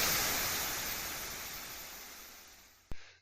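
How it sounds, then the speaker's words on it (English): Synthesized white noise with reverb: broadband hiss swells and slowly fades with a long reverberant tail, ending in a brief sharp click. "this is a reverb, just to get some spatial properties to the sound"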